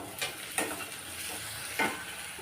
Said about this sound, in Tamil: வெங்காயம் வந்து கண்ணாடி பதம் வர அளவுக்கு நல்லா வதக்கி விட்டுக்கலாம்